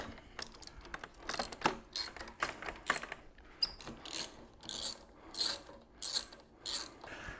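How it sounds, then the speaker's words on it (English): T40 Torx bits loosen light-fixture screws, making a repeated ratcheting click in steady bursts, close and fairly quiet, with no voices. "we're going to use T40 Torx bits. I'm not going to take them fully out, we're just going to get them loose"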